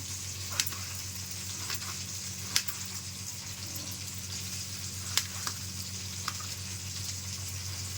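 Whole green chillies frying in a pan with a steady soft sizzle and hiss, a few faint clicks scattered through, close but quiet, no voices.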